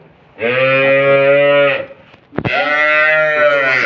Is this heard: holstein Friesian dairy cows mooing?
yes